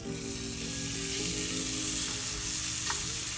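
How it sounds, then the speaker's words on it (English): A seasoned venison backstrap searing in a smoking-hot pan gives a dense, even, continuous sizzle, close and steady throughout with no talking. "Now we just let that sear"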